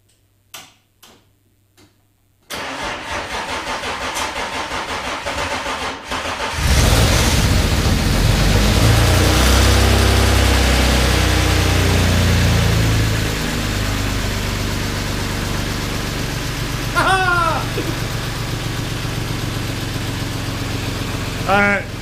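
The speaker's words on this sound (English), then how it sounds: "I'm just going to turn over the engine a few times just to get a bit of oil pressure into it" A car engine cranking over after rewiring, a few quiet clicks and then a long churning crank that settles into a loud, steady running note, with brief chirps near the end.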